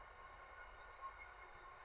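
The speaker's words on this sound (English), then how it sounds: "it's a freight train going past." A freight train passing at a distance, a faint steady rumble of rolling wagons and rail noise with no talking.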